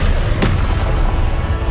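A Confringo blasting spell explodes in the Hogwarts Legacy video game, giving one short, sharp burst over a steady low rumble of game sound.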